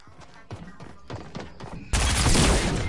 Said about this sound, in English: he shot me with a shotgun